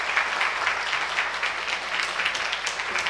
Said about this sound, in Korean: 우리 한번 축복의 박수 하겠습니다.